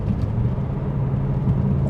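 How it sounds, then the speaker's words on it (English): A passing car downshifts nearby, giving a steady, fairly loud low engine rumble and whir that holds for about two seconds with no clear break, alone and with no voices. "See, there's that car again. There's this downshift again."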